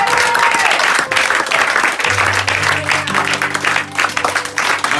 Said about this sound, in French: Tu vas te lever en acclamant le Seigneur.